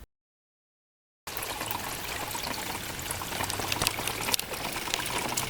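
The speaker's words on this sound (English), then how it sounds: "Do you hear the sound of the water?" After a moment of silence, water pours and splashes continuously, a steady rushing flow heard up close.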